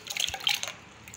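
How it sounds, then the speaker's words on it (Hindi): Raw mango pieces tip into the water they were boiled in, giving a brief wet splash and a few gurgling plops that quickly fade. "अब इसको भी हम इसी में जो पानी बचा था जिसमें कैरी को बॉईल किया था उसी पानी में हम ये डाल देंगे सारा"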